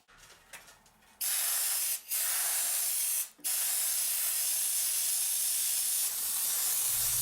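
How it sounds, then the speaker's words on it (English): Sandblasting on cast iron lathe parts gives a loud, steady, rushing hiss after a short quieter start, broken by two brief pauses and then running on without a break, with no voices. "sandblasting really is a good way to get rid of all the dirt and grime, rust and paint"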